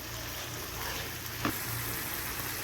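Schezwan chutney seasoned with sugar, salt and black pepper sizzles steadily in a pan, a dense continuous frying hiss with one brief clink partway through, heard alone and close.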